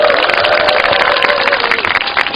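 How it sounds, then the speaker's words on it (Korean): Loud, dense applause from a crowd at an outdoor Wednesday rally by the Statue of Peace across from an embassy, sustained clapping filling the whole stretch with a faint whistle-like tone running underneath. "여러분 박수 한번 쳐주세요."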